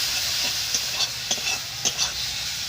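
Spice paste of coriander, turmeric and cumin powder with a little water stir-fried in a pan, giving a soft steady sizzle with a few faint scraping stirs of a spoon, quiet and close, with no one talking.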